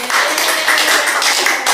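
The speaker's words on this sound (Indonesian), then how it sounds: "tepuk tangan untuk temannya" Students in a classroom clap for a classmate, a dense, loud burst of close-up hand claps filling the room without pause.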